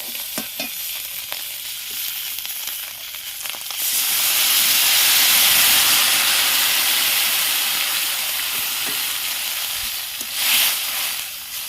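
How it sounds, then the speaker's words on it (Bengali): Small chuno fish and water hitting a hot pan tempered with mustard seeds and a dried chilli, a few light crackles, then a loud rushing sizzle and hiss of steam that swells, holds and slowly fades, close up. "আমি মাছটা দিয়ে দেবো। আমি দিয়ে একটু জল দিয়ে দেবো।"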